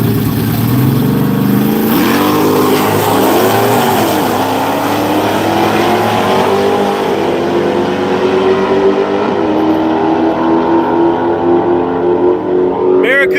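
A Hemi Barracuda drag race car launches and accelerates down the strip, a loud roaring engine climbing in pitch and fading into the distance, with commentary talk over it.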